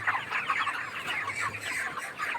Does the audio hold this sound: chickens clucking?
yes